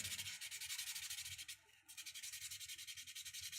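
Steady, rapid back-and-forth sanding strokes with a rhythmic rasping hiss, pausing briefly midway before resuming.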